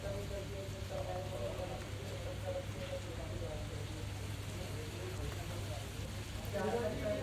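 Sudden heavy rain pours down in Mussoorie, a steady hiss of rainfall on surfaces with a low rumble beneath, carrying on evenly throughout, with voices faintly mixed in.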